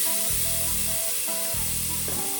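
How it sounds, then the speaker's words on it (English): Onions dumped into a hot pot on high heat for Brunswick stew, giving a steady loud sizzle and hiss across the whole stretch, with low clattering bursts in two spells as the pieces hit the pot. "Now we're going to dump the onions in"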